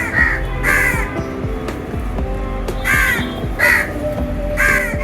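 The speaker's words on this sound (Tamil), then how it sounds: "இது காக்காவோட சவுண்டு கேட்டிருப்பீங்க." House crows cawing in several loud, harsh calls, spaced across a few seconds with a steady low background hum.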